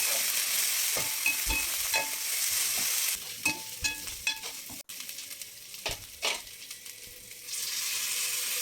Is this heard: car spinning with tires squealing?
no